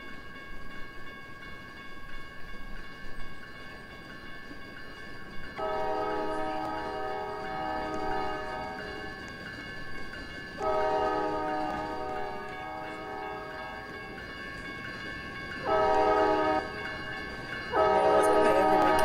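Trains in a Roblox video game pass with several sustained, synthetic-sounding horn blasts over a steady mechanical hum, each blast lasting a few seconds.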